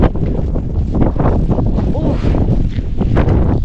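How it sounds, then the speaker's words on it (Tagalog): Loud gusts of wind batter the microphone almost without pause, while a voice speaks briefly beneath the rumble. "Ang lakas ng hangin."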